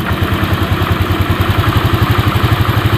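Honda Vario 125 scooter idling at about 1500 rpm, a close, loud, steady pulsing putter with an even rhythm and a faint mechanical clatter, no voices.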